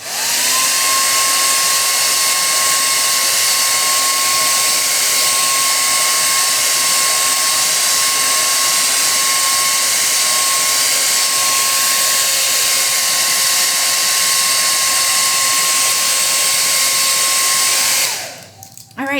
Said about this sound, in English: Let me pop on that blow dryer real quick